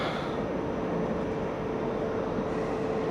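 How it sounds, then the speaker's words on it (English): Steady low rumble of a nearby passenger train with couchette sleeper cars, a continuous broadband drone with a faint hum, no voices. "And there's the train that brought us in."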